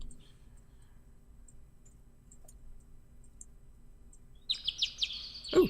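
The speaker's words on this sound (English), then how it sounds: "Ooh, birds." Birds chirp in the Hakuoki visual novel, Stories of the Shinsengumi, set in a Japanese courtyard: a short burst of bright, high tweets near the end after a quiet, low ambient stretch.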